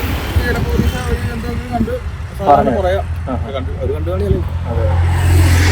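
Cars and other vehicles pass along a road behind a school bus in Cherthala, a steady low traffic rumble with a swell of passing engines running under continuous nearby talk.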